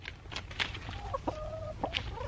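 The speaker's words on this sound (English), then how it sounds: "Oh, chickens are a little bit stupid though." Chickens clucking close by, a few short clucks and drawn-out tonal calls over a low steady background, no talking.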